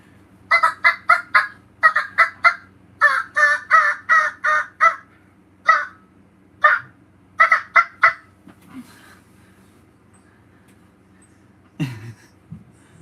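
A voice imitates a turkey: rapid clucks and a rolling gobble in quick bursts, then a pause and one last low squawk, close and clear.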